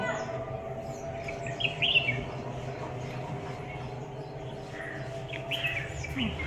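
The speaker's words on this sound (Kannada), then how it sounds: "ನೋಡಿರಲ್ಲ ಪಕ್ಷಿಗಳೆಲ್ಲ ಯಾವ ರೀತಿ ಸೌಂಡ್ ಮಾಡುತ್ತೆ ಅಂತ" Faint bird chirps and tweets scattered over a constant low hum, a few short calls in bursts rather than steady song.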